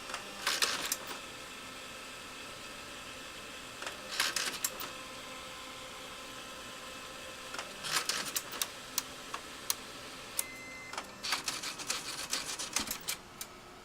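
A reassembled HP laser printer's mechanism clicks and rasps during a test run that ends in a paper jam error. Several clustered bursts of close mechanical clicking are separated by brief quieter gaps.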